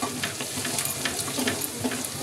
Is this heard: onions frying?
yes